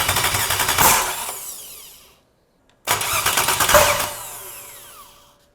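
An LS1 V8 in a C5 Corvette cranks and fires, roaring loudly up close, then cuts out; after a short silence it is started again and revs before fading down.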